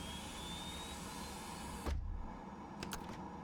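A Hawk T1 jet's gas turbine starter spools up in a flight simulator, a steady loud turbine whine and hum throughout, with a brief thump partway and a few faint clicks afterward; no one speaks.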